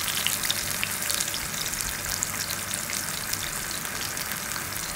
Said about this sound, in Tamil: இப்போ இதெல்லாம் ஒரு 1/2 மினிட்லேருந்து 1 மினிட் நல்லா ஃப்ரை ஆகட்டும்.